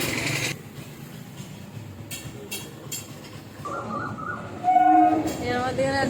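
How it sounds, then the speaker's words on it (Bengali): A train passes near a roadside sweet shop, a rumbling rail clatter that swells toward the end with a brief high screech, and a faint voice speaks in the background. "এই ট্রেন যাচ্ছে"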